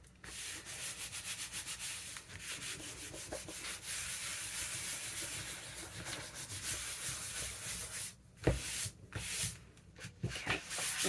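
Steady dry rubbing and scraping as gummy glue residue is worked off a craft file folder by hand, continuous strokes close by with a few sharper scuffs and taps near the end, no talking.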